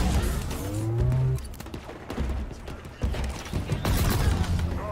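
Weapon in Halo Infinite firing arcing rounds, a run of clattering mechanical shots and crunchy impacts with rising whine tones, fairly close and busy, amid other game noise.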